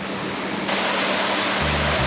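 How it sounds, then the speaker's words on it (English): A small waterfall in a Hawaiian jungle gives a steady, broadband rush of falling water that swells louder partway through, with a low rumble coming in near the end, and no voices. "Made it to the waterfall."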